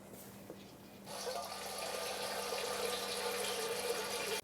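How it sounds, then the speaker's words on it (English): Engine oil pouring steadily from the drain hole of a 2018-2023 Subaru Crosstrek 2L flat-four into an oil bucket, a continuous splashing, trickling stream that starts abruptly after a quiet moment and holds at moderate level until it cuts off. "Let the oil drain into the oil bucket."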